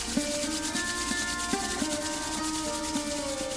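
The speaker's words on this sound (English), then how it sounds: "Now rub your palms together to generate prana." Palms rubbing together in a prenatal yoga session, a steady, close brushing friction with rhythmic strokes roughly every third of a second, heard alone.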